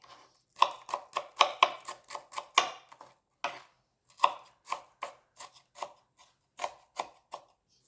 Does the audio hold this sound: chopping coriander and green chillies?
yes